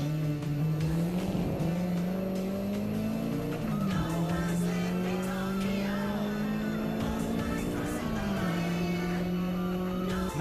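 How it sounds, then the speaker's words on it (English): A sports car, either a Toyota MR2 or a Nissan 180SX, races in the Initial D anime. Its engine drones loudly and steadily throughout, with pitch rising and dipping as it shifts and corners. "Is that an MR2 or a 180?"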